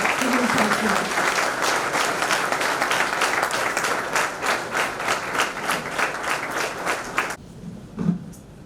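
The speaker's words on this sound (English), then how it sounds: "Let us give him a warm round of applause" A large audience at a court's foundation day ceremony gives sustained, dense applause that holds steady for about seven seconds, then cuts off abruptly, leaving a quiet room with a faint sound or two.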